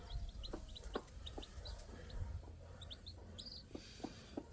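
Faint chicks peep in quick, scattered high chirps, with soft clucking and rustling nearby.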